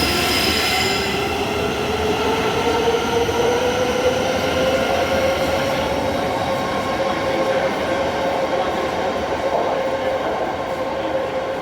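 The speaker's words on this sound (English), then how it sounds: "let's watch this train depart" A train pulls away from a station near Gatwick Airport with a rising, drawn-out wheel squeal over a steady loud rumble, close by and continuous.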